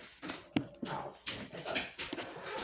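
A dog gives a series of short, soft whimpers and whines in quick uneven bursts, close to the microphone and fairly quiet, with no one speaking.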